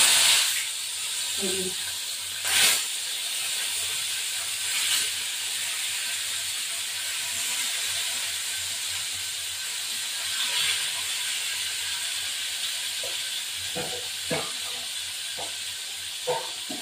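Bata fish full of large roe frying in a pan, a loud, continuous close hissing sizzle throughout with a few brief clicks and knocks.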